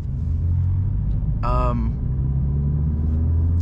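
A Vauxhall Corsa E with a loud exhaust drones low and steady while driving, heard close from inside the car, with a brief spoken word cutting in near the middle.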